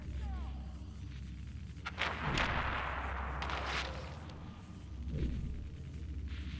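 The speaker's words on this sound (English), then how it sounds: "That grenade is crazy." A grenade explodes in the Watch Dogs 2 video game, a muffled rumbling blast followed by a second, softer boom, set against a low steady background rumble.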